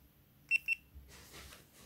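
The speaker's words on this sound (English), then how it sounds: "GoPro is beeping." A GoPro Hero 7 camera gives two quick high electronic beeps in succession, close and clear, followed by faint background rustling.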